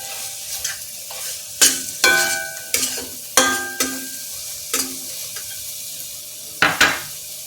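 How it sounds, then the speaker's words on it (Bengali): Spice masala with added salt is sautéed in a pan for a chicken curry with coriander and curry leaves: a soft sizzle broken by repeated sharp spatula scrapes and knocks at an uneven pace, close up. "এবার ভালো করে কষাতে থাকি।"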